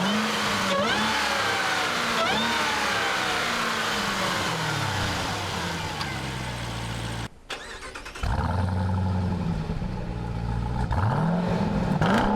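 A 2018 Jeep Grand Cherokee Trackhawk with a supercharged 6.2-liter V8 accelerates hard. The loud engine roar climbs through several rising gear pulls, drops briefly at a shift, then surges again.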